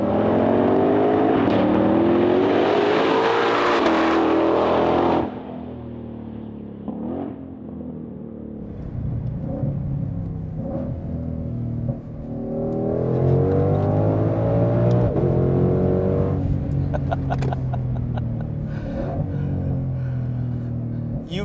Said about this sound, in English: So we're in the 500 now, taking it for a drive.